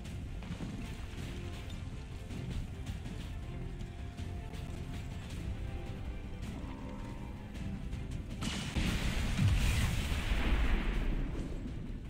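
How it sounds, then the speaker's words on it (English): An explosion goes off in the video game XCOM 2: a sudden heavy boom with a roaring rumble and debris, breaking out after a stretch of low, rumbling battle noise and lingering until the end. "Explosion didn't hit him"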